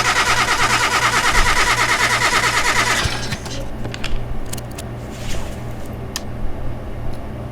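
A junkyard car's engine cranks over for a compression test, a loud steady rhythmic churning for about three seconds, then it stops, leaving quieter scattered clicks and clunks.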